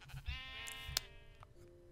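Minecraft sheep on a colourful farm give one clear, drawn-out bleat at close range, with game background noise around it and no talking.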